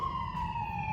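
Emergency vehicle siren outside, a steady, slowly falling wail heard at moderate distance over low rumbling background noise.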